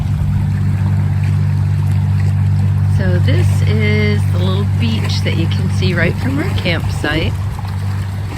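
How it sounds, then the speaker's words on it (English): A passing boat on the Elk River near the Chesapeake Bay drones as a steady low rumble throughout, heard from a shoreline campsite beach while a person talks over it. "That sound is just a boat going by."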